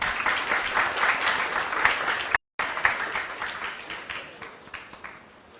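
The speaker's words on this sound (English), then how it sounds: "Can we have a round of applause?" Audience applause at a special lecture on law careers, a steady crowd clapping that briefly cuts out, resumes and gradually fades away, with no talking over it.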